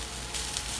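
Linguiça, a Brazilian sausage, sizzles in a pan with other baião de dois ingredients: a steady, close hiss of frying that turns brighter and a bit louder partway through, with no voices.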